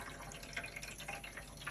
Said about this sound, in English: Always let the chemical drip off